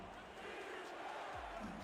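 Short burst of stadium crowd noise as a football crowd chants for defense on third down, a dense steady roar of voices with a faint rhythmic pulse.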